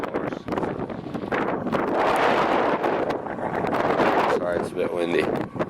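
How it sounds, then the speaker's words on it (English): Gusty wind buffets the microphone outdoors after a Memorial Day fireworks display, a steady low roar with rustling that persists for several seconds under a speaking voice. "Sorry, it's a bit windy."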